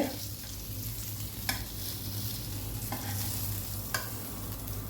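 Egg poured into a hot pan on a slow-medium flame for an egg bread toast gives a steady, even sizzle, with a few faint clicks of a utensil against the pan.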